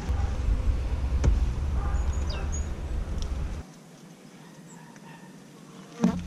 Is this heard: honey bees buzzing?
yes